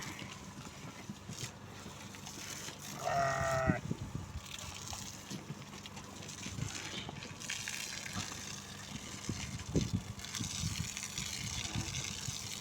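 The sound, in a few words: sheep bleating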